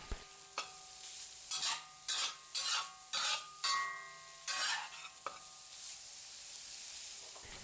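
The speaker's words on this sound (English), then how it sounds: "we add a pound of ground pork and stir fry it thoroughly to be sure it's cooked" A pound of ground pork is stir-fried in a Lodge cast iron wok, with a spatula scraping and clanking in quick repeated strokes over a soft, steady sizzle.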